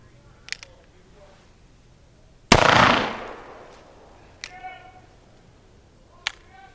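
A Pietta pepperbox pistol fires a load of shot into a soft backstop: one sharp, loud report followed by a decaying roar of echo. Faint clicks of the mechanism come before and after it, with no speech.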